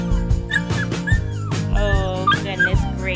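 A big, lush-coated young female dog whimpers and yips in a rising, whining run of high-pitched cries, close and fairly loud, with brief low whines between them.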